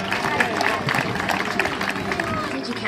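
Audience at a children's fishing awards ceremony cheering and clapping for a young girl, a dense, steady wash of applause and crowd noise with voices mixed in throughout.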